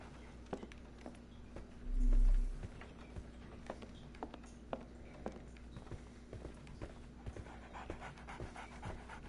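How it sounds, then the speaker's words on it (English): In the video game Sherlock Holmes The Awakened, a dog pants rapidly and rhythmically near the listener, with soft footstep taps around it and a brief low rumble early on. "So, Barnes has a dog now"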